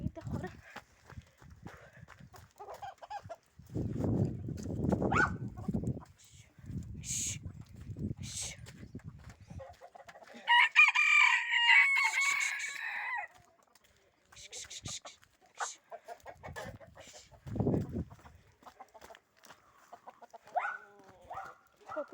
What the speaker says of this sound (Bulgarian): по-вчера взех тези двата петела и не са свикнати да се прибират